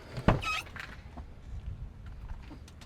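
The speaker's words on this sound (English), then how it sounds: "Let's open the back door." The back door of a Cadillac Escalade or Chevrolet Tahoe SUV unlatches with a sharp clunk and swings open, followed by faint rattling and quiet background noise.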